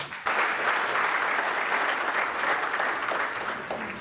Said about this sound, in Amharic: አንድ ሞቅ ያለ ጭብጨባ